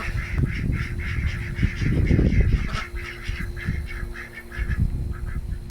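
Ducks moved near a chicken coop in a pasture give repeated loud, honking quacks in irregular bursts, close by, with short pauses between calls.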